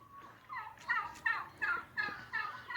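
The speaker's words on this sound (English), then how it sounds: "these are the female turkeys" Female turkeys at a ranch give a run of rapid, bubbling gobble-like calls in repeated bursts, about six or seven close together, fairly near and clear over a quiet background.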